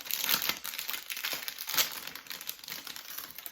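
Plastic wrapping on a small ribbon package crinkles and rustles close up as it is opened, in short irregular bursts.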